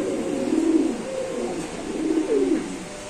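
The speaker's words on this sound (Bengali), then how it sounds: "এটা নর কবুতর" Male show king pigeons coo in a repeated soft, throaty rhythm, two close bouts rising and falling with no talk over them.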